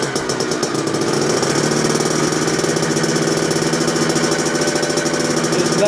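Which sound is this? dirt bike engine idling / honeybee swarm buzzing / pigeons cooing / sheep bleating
dirt bike engine idling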